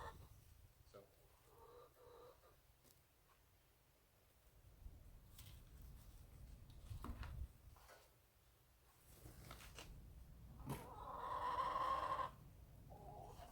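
Chickens cluck and squawk in the background of a garden, with occasional louder calls, while a person talks nearby.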